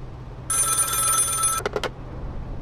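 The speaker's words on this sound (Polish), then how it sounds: "To jest telefon?" Electronic telephone bell in the police checkpoint game Contraband Police, ringing loud and steady for about a second, then giving two short separate rings over a low background hum.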